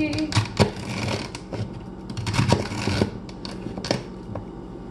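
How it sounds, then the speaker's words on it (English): A knife chops celery on a board with irregular, close, crisp thuds and clicks, several quick cuts scattered over a few seconds. "So I'm gonna cut up some celery."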